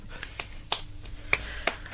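A few scattered, unenthusiastic claps from one person, about six sharp isolated hits spaced irregularly over two seconds on a quiet radio studio background.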